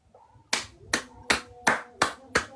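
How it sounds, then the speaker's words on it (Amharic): Six sharp, close hand claps land at a steady, unhurried rhythm after a brief quiet start, each one crisp and distinct with nothing else behind it. "ዛሬ ለፕሮቴስታንት ወንድሞቼ ማጨብጨብ ሆነ ስራዬ።"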